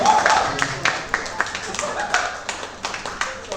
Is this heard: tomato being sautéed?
no